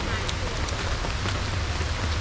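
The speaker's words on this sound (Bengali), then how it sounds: "আজকে সেই পরিমাণের প্রখর বৃষ্টি" Heavy rain falls in Rangamati's hills, a dense, steady hiss of drops close by with no break over a couple of seconds.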